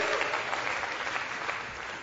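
An audience at a business presentation claps together, a dense, even patter of many hands held at a steady moderate level throughout.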